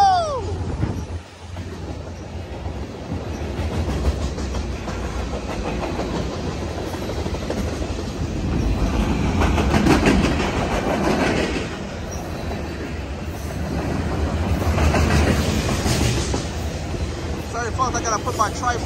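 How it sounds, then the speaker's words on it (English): A long Union Pacific mixed freight train rumbles past nearby at Richmond station, California, with rhythmic clatter of wheels on track, swelling and fading in waves, with voices faintly underneath. "Freight train coming"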